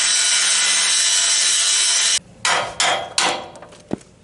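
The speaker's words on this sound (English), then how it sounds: "we're going to just cut these bolts off right here" Old, rusted-through bolts on a trailer being cut off: a loud, steady, harsh cutting noise runs for about two seconds, then stops, followed by several sharp metallic knocks and clanks.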